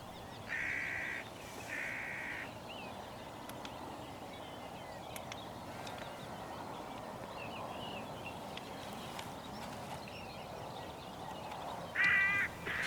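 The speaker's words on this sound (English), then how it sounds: "I didn't even notice it until I heard it crow in the background." A hooded crow caws a few times at a distance, short harsh calls early on and again near the end, over quiet outdoor ambience with no talking.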